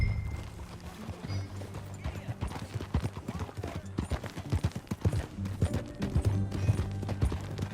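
Steady clip-clop of horse hooves trotting along in Red Dead Redemption 2, close and continuous, with a low musical bed underneath and occasional faint voices.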